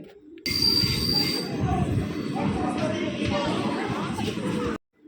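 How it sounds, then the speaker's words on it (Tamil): A train roars past close by at speed near Nagercoil, heavy rumbling wheels with a thin metallic squeal above, then the sound cuts off abruptly. "அவ்வளோ ஸ்பீடாக ஒரு ட்ரெயின் போயிட்டுருக்கு"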